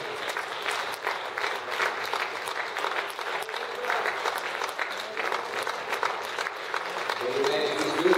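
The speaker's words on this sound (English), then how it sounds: "let's give God a hand clap of praise for His" A Sunday school congregation claps in praise, steady rapid hand clapping from many people throughout, fairly close and lively, with voices mixed in under the applause.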